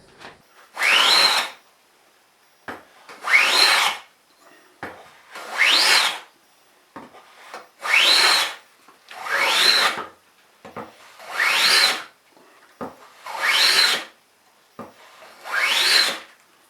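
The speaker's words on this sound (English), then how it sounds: "So we'll just get that back into the vise and do a little bit more planing." A hand plane shaves a wooden guitar fretboard clamped in a vise, with eight even, rasping strokes about two seconds apart and brief pauses between them, close and clear with no talking.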